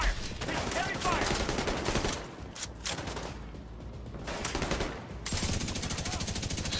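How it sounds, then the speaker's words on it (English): Heavy automatic gunfire in a video game manhunt mission set in a Coney Island amusement park, dense rapid bursts that drop away briefly mid-clip then resume at full loudness. "Taking fire! Taking heavy fire!"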